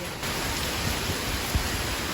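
Dense, steady roar of heavy rain pouring down, a constant wash of noise with a faint low thud, no voices.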